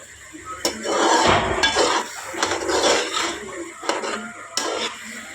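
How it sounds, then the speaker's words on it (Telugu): Thick ash gourd halva is stirred in a pan, with a spoon repeatedly scraping and clinking against the metal in irregular strokes, close and fairly loud. "ఇలా చాలాసేపు వరకు మిక్స్ చేసుకుంటూ ఉండాలి. అది థిక్గా దగ్గరికి అయ్యేంత వరకు."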